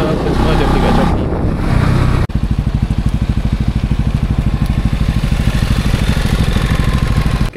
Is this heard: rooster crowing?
no